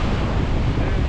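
Broadband rushing surf from an ocean wave breaking near a fishing spot while casting a big popper lure, loud and steady with wind buffeting the microphone throughout.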